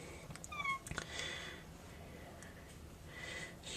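A sick pet cat with leukemia meows in short, quavering cries near the start, then goes quiet over faint room noise before a soft stir at the end.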